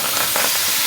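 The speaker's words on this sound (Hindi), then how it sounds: "और अब हम इसे अच्छे से सिजल कर लेते हैं।" Chicken Manchurian on a hot sizzler tray heated on a stove, giving a loud, steady, close hiss of sizzling steam, with no voices.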